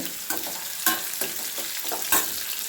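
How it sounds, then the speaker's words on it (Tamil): Onions frying in a pan for a brinjal stir-fry, a steady close sizzle broken by repeated scraping stirs of a spatula, no voices. "வெங்காயம் வந்து வறுப்படணும் ஒரு டூ மினிட்ஸ் தான் ரொம்ப டைம் எடுக்காது"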